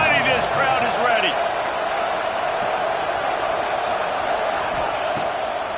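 Dense, steady crowd roar from a packed college football stadium crowd in a video game, loud and continuous throughout, with a brief burst of louder cheering near the start.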